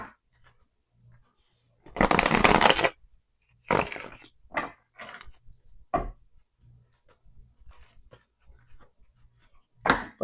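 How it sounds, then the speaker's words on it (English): Tarot cards are shuffled by hand in several separate bursts: a loud, dense riffle early on, then shorter, softer shuffles and card taps spaced out across the rest of the clip. "That's too many. Let me reshuffle."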